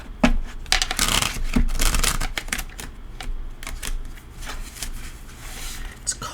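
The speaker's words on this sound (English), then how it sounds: "One more shuffle." A Halloween Ghost and Spirits tarot deck is shuffled by hand, giving a run of quick papery riffles and slaps, close and crisp, with a few soft breaths between.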